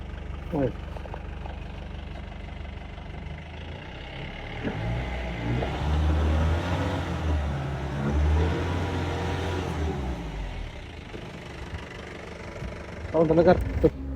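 A Mahindra Bolero engine idles nearby with a steady low throb that swells briefly in the middle, while people talk over it and a few louder knocks come near the end.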